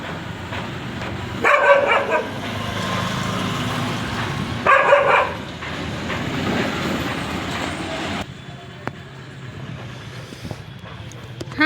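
Dogs bark in two short, loud bursts a few seconds apart at a rural home, set against a steady low rumbling background that later drops away.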